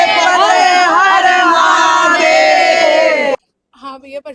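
A crowd at a Shiv wedding celebration in Batala shouts a religious jaikara chant in loud unison for about three seconds, then cuts off abruptly before a lone voice starts up.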